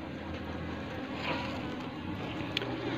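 Steady droning buzz of many honeybees around a hive, a dense continuous hum close by, with faint rustling and no voices.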